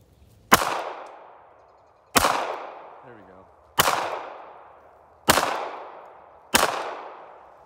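Five loud, sharp pistol gunshots ring out at even intervals of about a second and a half, each followed by a short decaying echo, with a brief faint voice between two of the shots.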